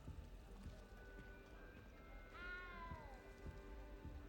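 A cat in the video game Hogwarts Legacy lets out one drawn-out meow partway through, heard faintly over steady game ambience and a soft rain-like hiss.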